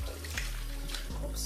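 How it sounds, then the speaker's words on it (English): Water runs steadily from a bathroom sink tap as hands are washed beneath it, a close, continuous splashing rush with brief shifts in flow. "I'm gonna wash my hands first."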